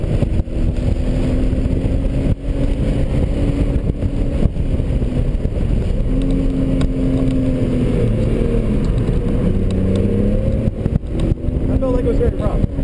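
A car on the Laguna Seca track during a high-performance driving session accelerates hard, its engine droning loud and steady from inside the cabin with shifting pitch, while people in the car talk over the noise.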